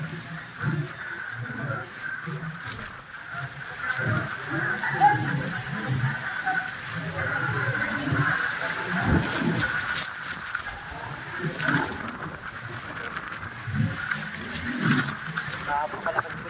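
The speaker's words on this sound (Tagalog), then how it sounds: "lakas po ng hangin at sinasabayan po ng malakas na ulan." Strong typhoon wind roars and buffets steadily while heavy rain hisses throughout on a flooding street in Zapote, Las Piñas City, with a voice talking over the storm.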